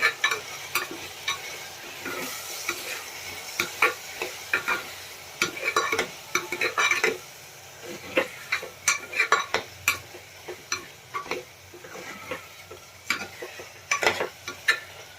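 A spoon stirs garlic chutney and coriander-cumin powder into a pea, aubergine and potato curry in a pan, giving repeated scraping clinks and soft sizzling at close range, with no talking.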